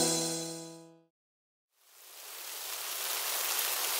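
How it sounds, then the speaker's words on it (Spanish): A musical tone fades out, a brief silence follows, then a steady hiss of rain rises and holds, soft and even. "Oh, está lloviendo."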